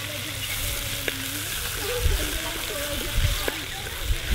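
Chillies and spices for Gujarati kadhi sizzle in a pan, a close steady fry with occasional spoon taps and stirring scrapes, while a person talks over it.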